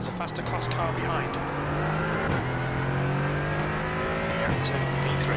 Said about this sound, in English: There's a faster class car behind.